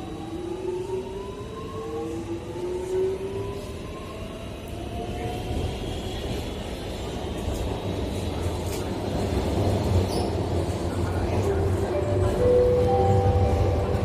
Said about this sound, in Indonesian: MRT segera tertutup, berarti MRT-nya segera berangkat.